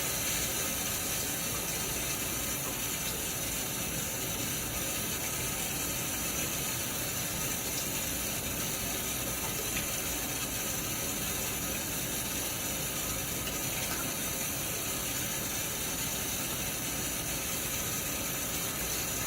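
Water runs steadily from a tap into a sink to rinse a razor after a shave, a continuous close hiss with no voices.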